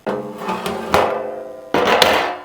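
A metal lid is set onto a cooking pot of sugar water for Kozhikode halwa, making two or three ringing clanks with a short metallic resonance, close and loud, with no talk.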